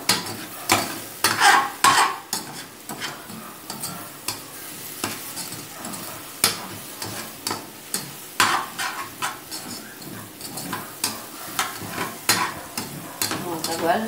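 A spoon stirs and scrapes the bottom of a pan where free-range chicken with white hominy is cooking. Repeated scraping strokes come at an irregular rhythm, close and clear over a soft sizzle.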